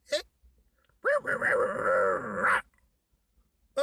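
A poodle gives one sustained, loud growl of about a second and a half, close up, with short bursts of sound just before and after.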